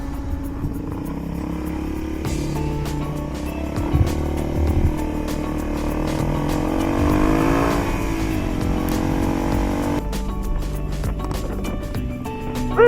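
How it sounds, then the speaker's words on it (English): Motorcycles ridden on a highway with muddy tires, a steady engine drone with the pitch rising as the bikes accelerate, heavy wind rush over everything, and a short stretch of speech near the end. "let's do some highway driving"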